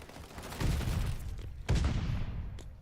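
Bursts of gunfire in the Boston Breach match of a live-stream challengers event, two sharp volleys with rattling shots and echoing tails, fairly loud and close.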